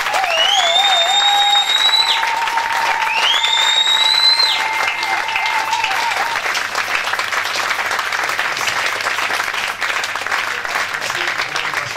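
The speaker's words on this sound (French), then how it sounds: "nous acclamons tous pour la gloire de Dieu" A church congregation applauds and cheers in a loud, continuous wash of clapping, with rising whistle-like tones over it and crowd noise sustained throughout.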